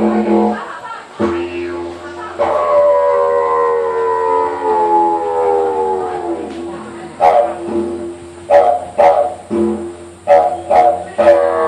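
Aboriginal didgeridoo imitating a dingo howl: a loud droning tone rises into a long wavering howl, followed by a series of short, sharp yelping blasts like barks.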